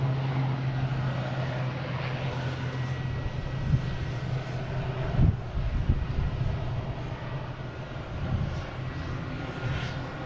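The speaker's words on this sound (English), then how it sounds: "Just had a plane come in with a lot of lights on it" A plane coming in to land at Boston Logan International Airport, its engines a steady, loud roar that holds throughout with no one talking.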